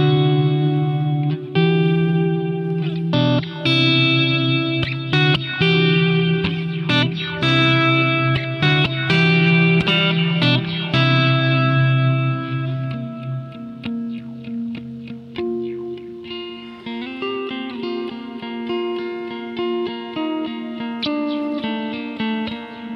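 An electric guitar plays through a prototype amp profile from Tone Junkies with all knobs set at the middle, giving picked single notes and chords with an effects-laden, reverberant tone and no talk.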